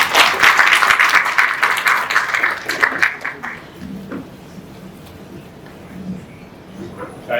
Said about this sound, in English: Let's welcome Mr. Chan with a round of applause.